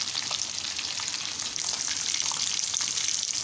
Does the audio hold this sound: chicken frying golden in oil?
yes